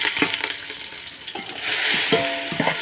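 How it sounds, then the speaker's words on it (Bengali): Boiled vegetables stirred and fried in a pan, with a loud sizzle swelling and fading between several distinct scraping strokes of a spatula, close and with no one speaking. "সবজি ছাড়ার পর আস্তে আস্তে করে ভেজে আরও একটু যাতে ব্রাউন করে ভেজে নিলে জিনিসটা খেতে ভালো লাগবে।"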